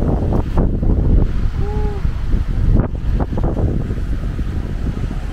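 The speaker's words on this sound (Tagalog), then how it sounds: "naririnig diba yung hangin, guys, sa ting walk up?" Strong wind roars steadily and loudly on a city walk in Taiwan, buffeting the microphone in continuous gusts with no other clear sounds.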